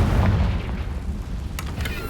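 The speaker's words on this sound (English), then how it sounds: "Confringo!" A Confringo spell in Hogwarts Legacy bursts with a deep, rumbling boom that fills the moment, followed by a couple of sharp crackling pops near the end.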